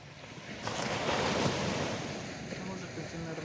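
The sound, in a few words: sea waves and surf at Karon beach, Phuket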